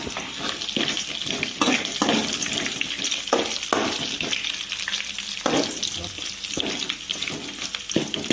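Cumin and chillies crackle and sizzle in hot oil, a busy, close frying hiss punctuated by sharp stirring scrapes and pops throughout, with no one talking.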